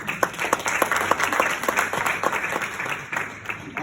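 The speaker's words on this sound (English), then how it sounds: "A round of applause for him." Audience applause at an annual lecture honoring a distinguished panelist, a steady round of many hands clapping at moderate volume that carries through the whole stretch without pause.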